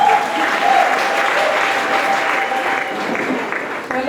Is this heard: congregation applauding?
yes